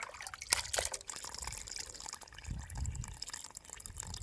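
Country chicken pieces being rinsed in water, with splashing, pouring and dribbling sounds close by, a couple of louder sloshes early on and softer handling noises after.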